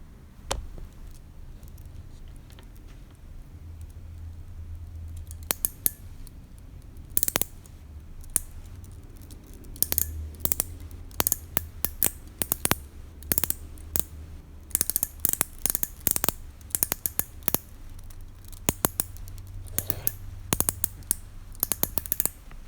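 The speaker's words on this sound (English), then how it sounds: "turn the figure around in a circular motion at the waist and you will hear this clicking sound" Kenner Aliens Drake toy figure twisted back and forth at the waist, giving bursts of rapid, sharp plastic clicks in irregular clusters over a faint steady background hum.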